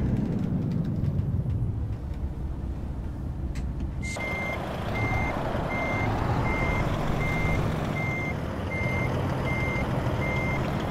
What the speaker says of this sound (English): reversing these goddamn steerable trailers